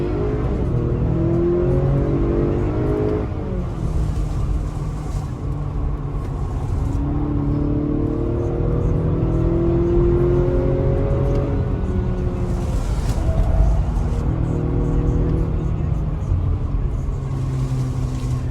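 A 2021 Acura RDX A-Spec with a 10-speed transmission pulls away hard from a brake-torque launch, its engine droning loud and steady with rising and shifting tones across the run, heard from inside the cabin.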